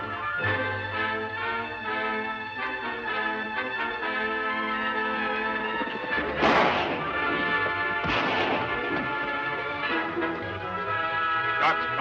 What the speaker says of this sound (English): Shots come from over there.